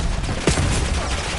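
Gunfire and a short blast in Call of Duty Black Ops 6 multiplayer on Nuketown, a busy, loud wash of shots with one sharper report near the middle.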